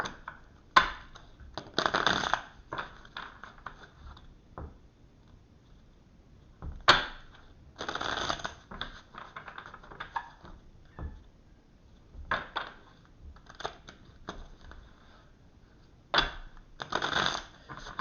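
Rider-Waite tarot cards being shuffled in repeated riffling bursts, close and fairly loud, with short pauses between rounds and no talking.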